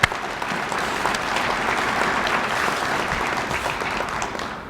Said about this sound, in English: If y'all would give them a round of applause